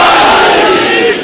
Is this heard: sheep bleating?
no